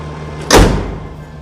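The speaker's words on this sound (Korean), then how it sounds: "후드 닫습니다" A single heavy thump of a car hood slamming shut, close and loud, fading quickly into a low hum.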